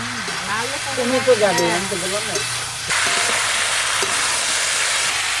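Mixed winter vegetables for a rupchanda fish kalia fry in a pan. A voice talks over a quieter sizzle at first, then a loud, steady frying hiss takes over alone.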